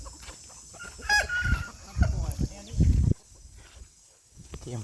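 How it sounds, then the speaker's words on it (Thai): Chickens clucking in bursts close by with a rooster crowing, mixed with outdoor rural background and people talking nearby. "ไก่แหละ"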